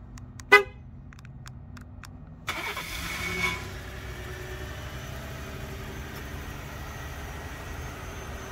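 A 2017 Ford F-150 pickup responds to a remote start: a few short horn chirps, then the engine cranks and catches into a quiet, steady idle.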